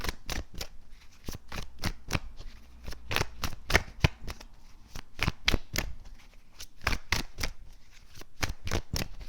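Tarot cards are shuffled and drawn, a long run of sharp, rapid riffling snaps close to the ear, steady and rhythmic with brief irregular gaps, and no talking over it.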